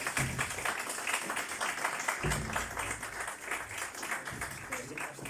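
An audience at a talk on fifty years of Spain–China relations applauds in a steady, moderately quiet patter lasting several seconds, mixed with a speaking voice.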